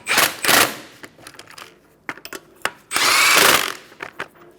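An impact or power tool tightens lug nuts on a Kia Soul wheel in two loud buzzing bursts, separated by clicks and short ratcheting taps, close by with no talking.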